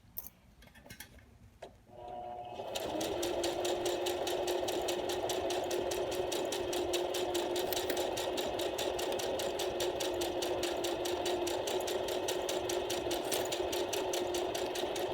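A sewing machine runs steadily, stitching around the bottom edge of a messenger bag at half-inch seam allowance, its rapid needle ticking continuous and close after a brief quiet start with a few handling sounds.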